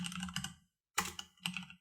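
A username is typed on a computer keyboard in a quiet room, with close, soft key clicks in three short bursts separated by brief pauses, and no voices.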